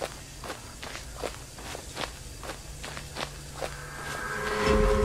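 Rapid footsteps from a figure moving fast, heard as a steady run of quick, evenly spaced steps over a low constant hum, with a rising rumble building near the end.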